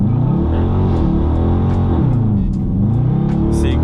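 A Dodge Charger RT launches hard from a dead stop, its engine roaring loudly up through the gears with rising revs, a brief dip at a shift, then climbing again, heard close from inside the car.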